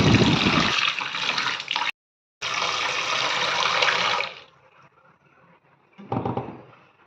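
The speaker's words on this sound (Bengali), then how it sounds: "একটু মসুরির ডাল নিয়ে নিলাম, আর মসুরির ডালটাকে খুব ভালোভাবে ধুয়ে নিচ্ছি।" Red lentils being washed for a Bengali masoor dal: a loud, steady rush of running, splashing water, briefly cut off, then trailing into quieter trickles before a short final splash.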